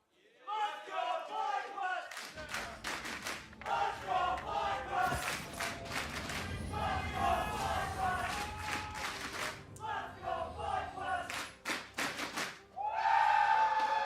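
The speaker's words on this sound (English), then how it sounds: "Fans of both teams here in the audience, everybody's cheering for their squad to be able to bring home the W on this one." A large League of Legends esports crowd at an LCS 2019 Spring playoff match cheers and roars continuously, with a rhythmic clatter of banging thunder sticks running through the noise and a swell of shouting near the end.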